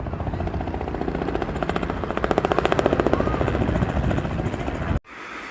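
A helicopter's rotor thumps in a fast, steady pulse over a loud engine drone at a beachside helipad in Atlantic City, continuous until it cuts off abruptly near the end.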